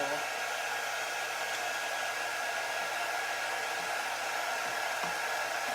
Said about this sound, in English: I'm going to heat up my wax a little bit with my quick dry tool.